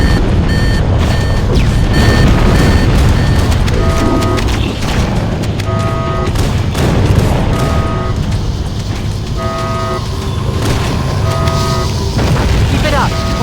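Fusion reactors exploding in the video game Halo: Combat Evolved, a dense, loud wash of blasts and rumbling booms mixed with beeping alarm tones and game music, continuous throughout.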